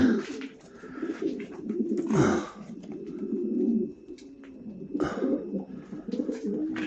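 Pigeons coo softly and repeatedly nearby, with soft rustling and a few brief higher bird calls mixed in.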